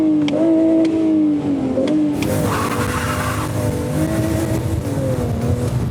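A car engine with an intake revs and surges in a wavering pitch, loud and close, then a harsher broadband rush joins midway as the revving continues.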